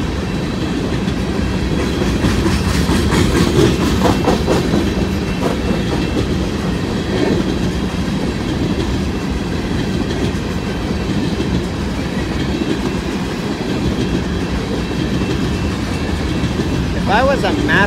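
An empty BNSF coal train rolls past up close, loud and steady, with a continuous rumble and rhythmic clickety-clack of wheels over rail joints throughout, and a brief wheel squeal near the end.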